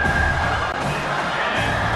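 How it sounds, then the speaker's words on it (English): A home crowd at a college football game, South Carolina versus Alabama, roars in a loud, sustained wall of cheering and shouting that fills the whole moment without a break. "this home crowd is fired up and ready to make a difference today"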